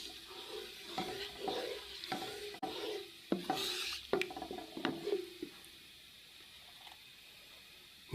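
Cumin seeds crackle and sizzle in hot oil at the start of a fish curry, with intermittent scraping stirs and soft clinks over a steady, close frying hiss.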